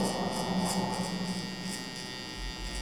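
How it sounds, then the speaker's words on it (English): An electric hair trimmer buzzes steadily and close up while cutting hair during a low taper haircut, a constant mains-like hum with no talk. "I'm gonna create my first guideline with my trimmer"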